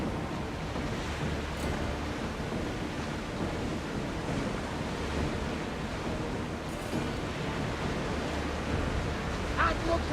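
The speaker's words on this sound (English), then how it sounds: "That looks like quite the storm." Stormy sea surf and gusting wind roar steadily around a ship in Assassin's Creed Odyssey, a dense, continuous wash of crashing waves with no clear breaks, fairly loud throughout.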